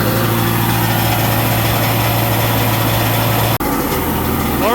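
A Yamaha FX SHO WaveRunner engine idles high out of the water at a constant pitch, close and loud, with a brief dropout near the end before the drone resumes.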